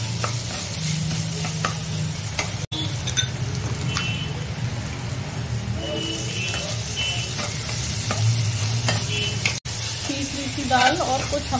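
Coarsely ground urad dal fries over low heat in a pan, a steady loud sizzle with repeated scraping stir strokes, while someone talks over it.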